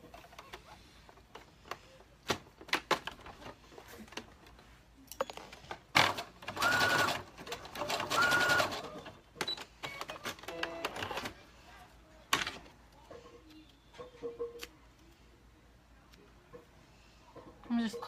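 A sewing machine runs in short bursts of rapid stitching, mixed with clicks, fabric handling and quiet pauses, during a home sewing session where a person talks intermittently.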